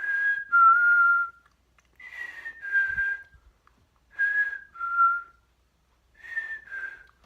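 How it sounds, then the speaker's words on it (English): A person whistles the Saviors' signal tune from The Walking Dead, a clean, close melody of short two-note falling phrases repeated four times with pauses between. "But I love the whistle, too."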